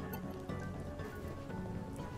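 Steady rain in the video game UNmetal patters as a soft, even hiss of drops, faint and continuous, with a few slightly sharper taps scattered through it.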